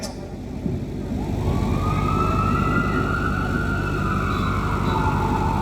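An ambulance siren wails, rising and falling steadily over a loud, continuous rumble of nearby traffic, during a live comedy stage show.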